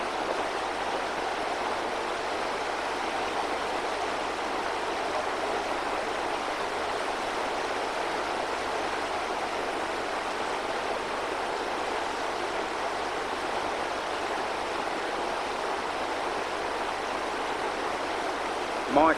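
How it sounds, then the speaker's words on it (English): White-water river rapids somewhere near Sangam in India, a continuous rushing roar of churning water, steady and fairly close, with no clear speech over it. "Mike floundering about as he's heading down the rapids"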